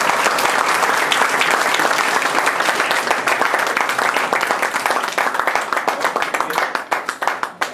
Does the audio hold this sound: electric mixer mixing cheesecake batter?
no